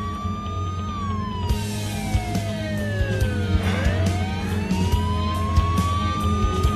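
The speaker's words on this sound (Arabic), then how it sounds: "وصل الإسعاف" An ambulance siren wails steadily, its tone sweeping down and up as it passes, loud over continuous traffic and vehicle rumble.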